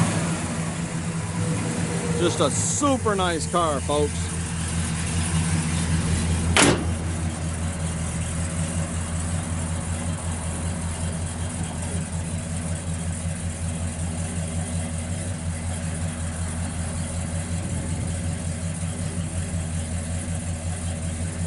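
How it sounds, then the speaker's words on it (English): A 1967 Pontiac GTO with its numbers-matching 400 engine fires up with a sharp catch, revs briefly, then settles into a steady, rumbling idle that holds for a long stretch, with someone talking over the start. "We'll fire this thing up"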